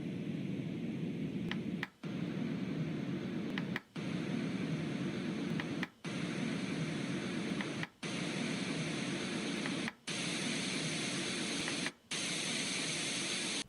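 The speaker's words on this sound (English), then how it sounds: "First, I'll show you the white sound noises." Steady broadband white noise hissing continuously, broken by brief silent gaps about every two seconds as the sound cycles.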